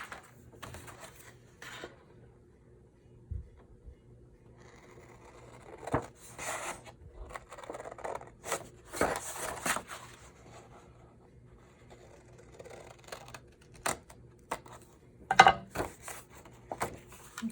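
Scissors cut a paper square out of a junk-journal page: quiet, close snips and rustles come in irregular clusters, with brief pauses and handling noise between them.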